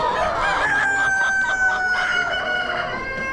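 Rooster crowing among poultry at an Amish animal auction, one long drawn-out crow, loud and close, with faint clucking and barn noise behind it.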